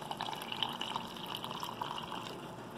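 Water pours into a pot of chicken stew with capers, a soft continuous trickling and splashing, faint and close, lasting a few seconds without talk.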